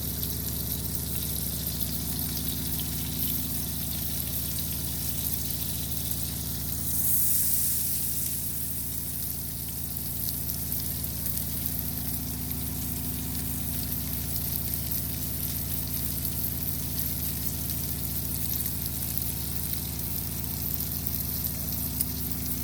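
Salmon frying in melted butter in a pan makes a loud, continuous sizzle and crackle that holds steady throughout, close by and with no voices.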